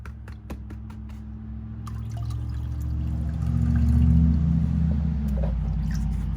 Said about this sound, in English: I got a little bit of clear water left in here I can still pan with.